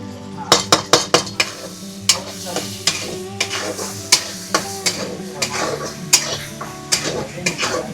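Ground masala paste of ginger, garlic, green chili and dry coconut frying in oil in a village kitchen, sizzling loudly while a spoon scrapes and clacks against the pan in quick, irregular strokes.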